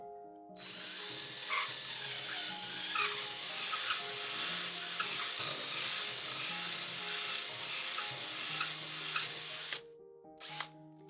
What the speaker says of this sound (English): When using a 3/8" drill bit to put these holes in your wall, you'll want to swirl it around a little bit